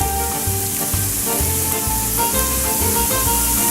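Garlic sizzling in a hot pan with oil for a vegan tomato and cashew cream pasta sauce, a loud steady frying hiss with crackles and occasional stirring knocks throughout.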